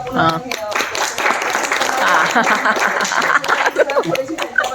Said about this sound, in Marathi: आपण त्यांचं इथे टाळ्या वाजून अजून स्वागत